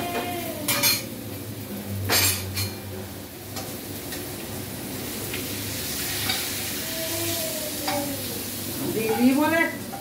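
Onions and mustard paste frying in a pan, with a steady sizzle underneath and spoon scrapes and clinks against the metal pan recurring throughout, fairly close and moderately loud.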